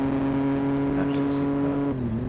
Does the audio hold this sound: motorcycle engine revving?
yes